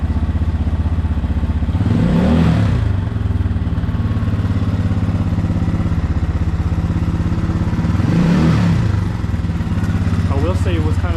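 An X-Pro Templar 250 motorcycle engine with a Nibbi carburetor, running lean, idles with a steady close chug and rises in two brief revs; sharp pops crackle through the exhaust.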